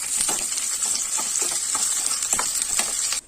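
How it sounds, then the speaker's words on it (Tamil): Shallots and curry leaves sauté in hot oil for a tempering, a steady close sizzle and crackle with occasional stirring scrapes, running continuously until it cuts off at the end. "சின்ன வெங்காயம் சேர்த்து நல்லா வதக்கி விட்டுக்கோங்க"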